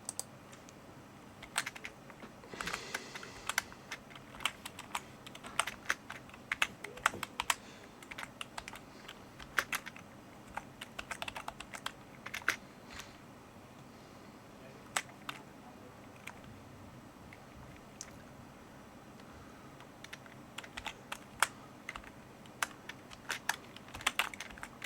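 A username typed on a computer keyboard, quiet irregular key clicks in bursts with short pauses between, close and alone.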